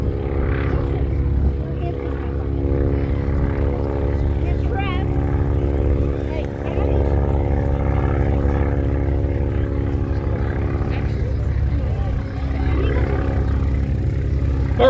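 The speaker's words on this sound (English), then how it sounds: "just let him get a little bit of altitude here" A historic Boeing Stearman biplane, one of the first built, climbs out after takeoff at an airshow, its radial engine and propeller droning steadily and loudly throughout, with a voice talking over it.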